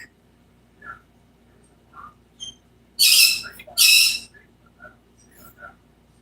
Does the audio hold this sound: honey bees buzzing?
no